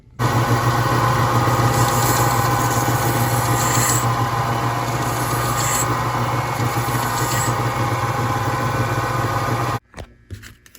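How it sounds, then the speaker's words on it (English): A belt sander runs steadily against wood with a loud, continuous motorized whir and grinding for several seconds, then cuts off abruptly. "now just use this belt sander to smooth out this wood"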